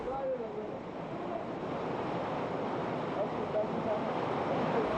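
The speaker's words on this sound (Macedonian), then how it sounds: "Бучавата на водотекот се засилува." An underground watercourse rushing through a cave, a continuous, even roar of flowing water filling the space at steady loudness, with no talk heard.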